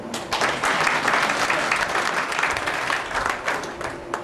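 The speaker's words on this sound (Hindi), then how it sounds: "मैं एक छोटा सा ब्रेक लेती हूँ आपकी तालियों के लिए" An audience claps at a book release function in a museum hall, a dense burst of applause that swells quickly, stays full for several seconds and tapers slightly toward the end.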